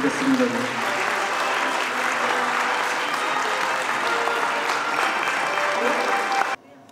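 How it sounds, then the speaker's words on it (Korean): An audience at an emergency medical day ceremony in Daegu, where CPR instructors are honoured, bursts into dense, steady clapping for about six and a half seconds before it cuts off sharply. "예, 박수 부탁드리겠습니다."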